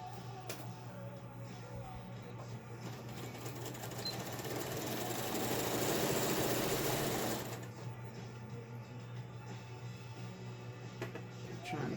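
A sewing machine stitching a fabric face mask, running as a steady close mechanical whir that swells louder in the middle and then drops back to a quieter hum.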